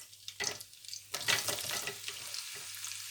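Onion hitting hot oil already spiced with cardamom and cinnamon, bursts of crackling sizzle with clattering stirring in between, close and fairly loud.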